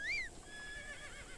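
A horse in the video game Zelda Breath of the Wild gives a short, high whinny at the start, followed by a faint trailing tone over quiet game ambience.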